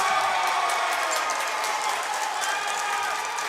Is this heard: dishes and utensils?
no